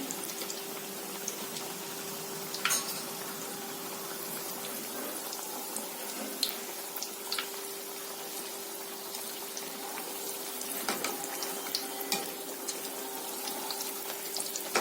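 Kajjikaya pastries deep-frying slowly in oil on a low flame, giving a steady, even bubbling and hissing with a faint constant hum and occasional small pops throughout.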